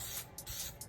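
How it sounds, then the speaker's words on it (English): Spray from a can onto a car intake manifold being restored, a few quick hissing bursts in rapid succession, close and fairly quiet, with no talking. "Maybe spraying it on too heavy."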